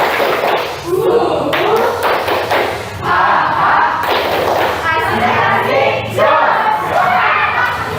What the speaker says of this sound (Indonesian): sekali lagi tepuk semangat saja